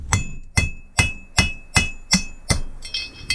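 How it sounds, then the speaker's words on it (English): A hammer strikes a drift to knock out a Holley carburetor venturi on a small-block V8 carb, giving eight sharp metallic blows at a steady, even pace, close and clear with no talking. "You just put a drift here and you just hammer it"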